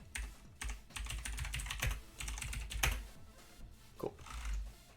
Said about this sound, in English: Look at me, I can't type.